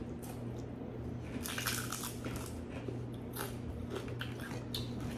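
Crunchy bites into crispy fried daing na bangus, dried milkfish, come close and clear, several sharp crackling chews in irregular succession with no talking.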